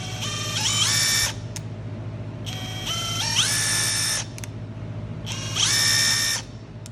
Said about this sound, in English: Here's the 1/2-inch impact.